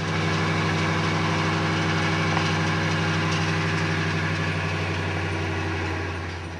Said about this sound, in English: It is still running a slightly rough